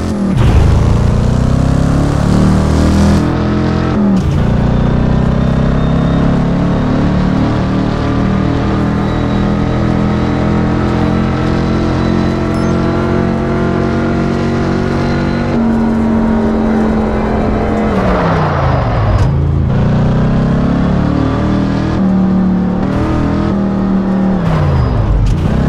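A car engine drones steadily in the racing game Test Drive Unlimited 2, loud and continuous, its pitch rising and falling as the car shifts and accelerates, with a couple of brief dips in the roar.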